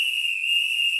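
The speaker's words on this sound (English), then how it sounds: "I'm going to start off with blowing my whistle." A single long, shrill whistle blast rings out close and steady for about a second, alone with no talk.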